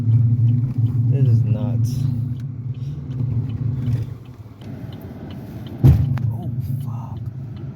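A Chevrolet Malibu with grinding brakes driving into a garage, a steady low engine rumble with a metallic clatter and a sharp knock near the end, while someone speaks over it in alarm.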